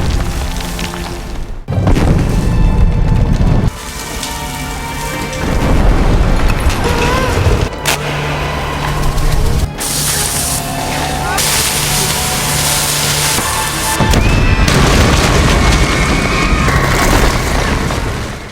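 A blast tearing through a mine tunnel, with loud booming bursts and rumbling debris that repeat and swell across the clip, dense and close, layered with dramatic background audio.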